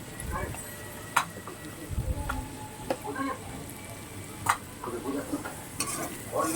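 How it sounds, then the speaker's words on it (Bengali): A spoon scrapes and clinks in a pan, stirring turmeric and ground cumin that sizzle softly, with a few sharp metallic knocks at irregular intervals. "এবার এটাকে ভালো করে নাড়াচাড়া দিতে হবে"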